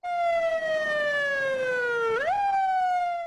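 A wailing emergency siren sounds loud and steady on a slowly sinking tone, then jumps back up abruptly near the end, with no voices over it.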